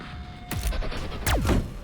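Two loud gunshots from the video game Cyber Knights Flashpoint, the first at about half a second and the second around 1.3 seconds, each with a sharp crack and a falling, booming tail over low background game ambience.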